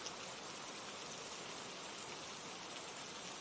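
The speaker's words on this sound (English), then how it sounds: "We're just listening to the rain over here." Rain falls steadily in an even, faint hiss of drops on surfaces, unbroken and without voices.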